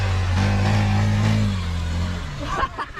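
A boat engine starts and revs near the water, a steady loud low drone that sags toward the end as voices and commotion rise around it.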